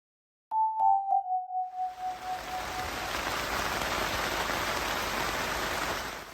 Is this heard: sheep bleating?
no